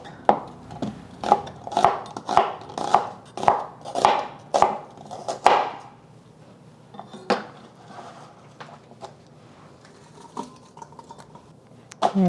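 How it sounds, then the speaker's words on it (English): A knife chops an onion on a cutting board with about ten crisp, evenly spaced cuts close by. After that come several scattered, quieter taps and board knocks, with no talking. "I'm gonna just cut up the onion."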